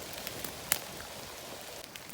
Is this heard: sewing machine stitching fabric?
no